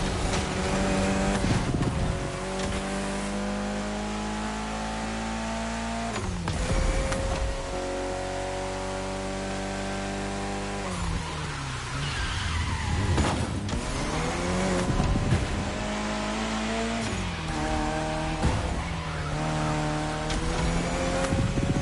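Mitsubishi Lancer Evolution X, the final Lancer Evolution, driven in the racing game The Crew: a steady loud engine drone whose pitch climbs through repeated gear shifts, with brief tire squeals and no talking.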